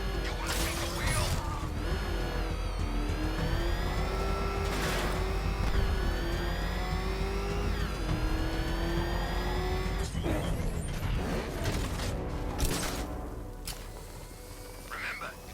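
Vehicle driven in the video game Batman Arkham Knight: a continuous revving engine drone with rising and falling pitch, crashes and impacts, and voices talking over it.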